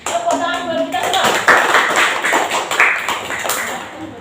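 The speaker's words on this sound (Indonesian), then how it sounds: "Tepuk tangan buat kita semua" Classroom applause from a small group of about eleven pupils, a short burst of close, brisk clapping that fades out quickly.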